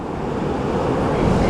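Ocean surf rolls and breaks along a beach at sunrise, a steady broadband wash with wind buffeting the microphone and no voices.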